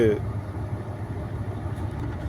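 A truck engine runs steadily with a low rumble that holds throughout, up close and fairly loud, with no clear rise in pitch.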